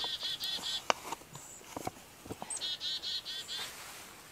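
Chickadees calling at a lakeside campsite on Lake Nipigon, quick high chirps and short repeated call bursts, fairly faint over a quiet outdoor background.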